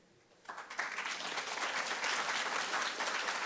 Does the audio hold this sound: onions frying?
no